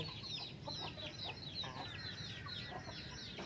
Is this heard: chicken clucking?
yes